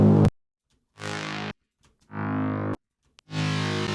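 Three separate bursts of layered future bass mid-bass synth play, each thick, distorted and buzzing, lasting about half a second to a second, with silent gaps between them.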